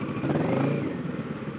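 A motorcycle engine idles and rumbles steadily up close while the bike is being parked, a continuous mid-low drone with slight clatter and no speech.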